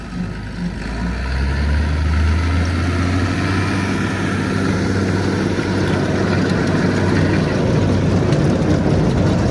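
John Deere 7710 tractor engine running at a steady idle, a loud, close, continuous low rumble with no break across the whole stretch.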